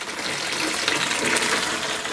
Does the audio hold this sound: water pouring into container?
yes